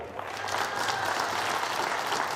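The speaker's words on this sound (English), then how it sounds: "he'll enjoy his moment of applause there" Steady applause from a pool hall audience at the 2023 US Open Pool Championship, greeting a player's match win; dense, continuous clapping at moderate loudness, alone without talk.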